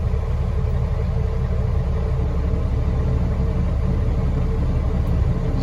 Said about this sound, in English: we got an excavator loading trucks at the ethanol plant from the ground pile